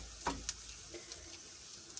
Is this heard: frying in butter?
yes